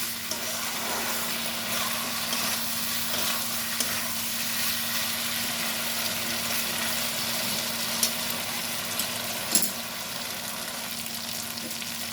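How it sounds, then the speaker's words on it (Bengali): Poppy seed paste masala frying steadily in hot oil, a continuous close sizzle and crackle with a low background hum and a couple of faint spoon knocks near the end. "ততক্ষণ ভাজবো যতক্ষণ পোস্ত কাঁচা গন্ধটা চলে না যায়"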